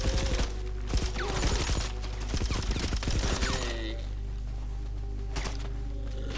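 Rapid bursts of gunfire in GTA 5 during a Halloween living-dead zombie event: dense, loud volleys of shots and impacts over a steady low game drone, fading into quieter background ambience with a couple of isolated hits.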